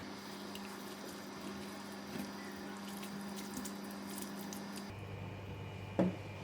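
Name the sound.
pouring water into noodle sauce in a pan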